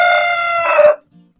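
Rooster on a free-range village chicken farm gives one loud, close crow that ends sharply, followed by a faint cluck.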